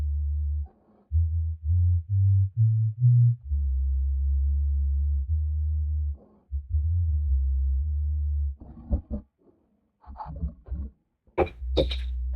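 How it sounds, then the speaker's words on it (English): An ocarina track plays low, pure sustained notes in a simple stepping melody, followed by gaps and short breathy, noisy bursts near the end. "you can see the unbelievable low register response I'm getting from this ocarina track"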